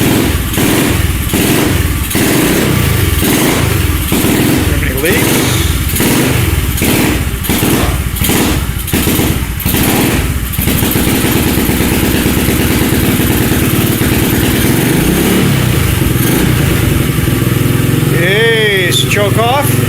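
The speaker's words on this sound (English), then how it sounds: "So now the bike's idling with the choke off." SSR 125 pit bike engine running with the choke off, a loud close-up single-cylinder idle with a pulsing rhythm that settles into a steady drone, with brief talk over it.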